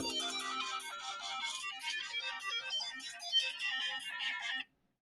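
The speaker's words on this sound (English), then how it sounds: "oh, I got a phone call" A phone ringtone plays alone for an incoming call, a dense, busy, bright electronic melody that runs steadily for about four and a half seconds and then cuts off abruptly into silence.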